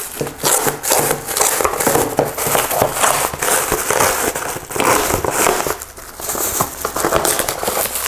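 Tape being pulled and peeled off a plastic-wrapped roller pad, with continuous close crinkling, rubbing and tearing rustle and no speech.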